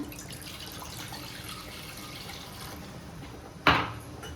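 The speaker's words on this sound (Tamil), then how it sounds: "அதில் ஒரு ரெண்டு டம்ளர் தண்ணி ஊற்றிக்கலாங்க" Continuous splashing of two tumblers of water being poured into a kadai, steady and close, with a brief louder splash near the end.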